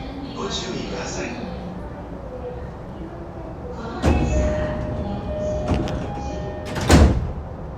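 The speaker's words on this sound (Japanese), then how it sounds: "2番線ドアが閉まります。" Saikyo Line commuter train doors sliding shut at Omiya station, a soft rolling slide ending in a couple of thumps, with a louder bang near the end, behind a steady station-platform hum and announcement voices.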